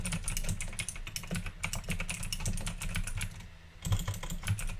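Rapid typing on a computer keyboard, a dense clatter of close key clicks in quick bursts with a short pause before resuming, no voices.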